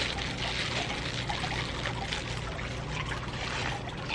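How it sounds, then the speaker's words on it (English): Water from a big jug trickling and pouring into dye bottles outdoors, a steady continuous splashing stream that holds even for about four seconds with no voices. "the next step is filling all the dye bottles with some water"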